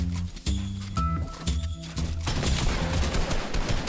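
AR rifle fire in a video game, a rapid series of sharp cracks roughly twice a second, followed by a denser, noisier burst of overlapping shots, loud and close.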